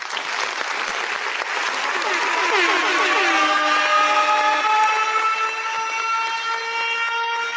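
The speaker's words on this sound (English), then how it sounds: "let us give Dr. Shayna Goodine a warm welcome round of applause" An evening audience welcomes Dr. Shayna Goodine onto the stage with a loud, sustained burst of clapping, while a long, sliding tonal sound like a siren or whistle rises and holds across the applause.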